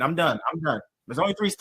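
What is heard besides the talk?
No everyday noises stand out.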